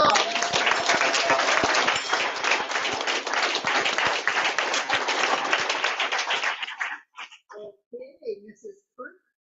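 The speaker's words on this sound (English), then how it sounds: "a round of applause" Room-filling applause at a school board meeting runs steadily for several seconds, then breaks into a few last claps as a voice begins speaking.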